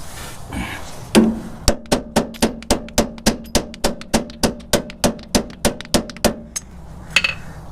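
A hammer strikes a metal rear lower control arm bushing about fifteen times in a steady, even rhythm, each blow sharp and ringing, close by with no talking.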